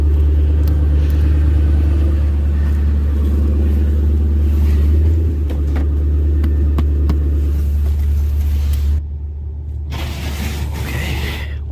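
A car engine runs at a steady idle, a loud low rumble close by that dips a little partway through and drops quieter near the end, with no talking.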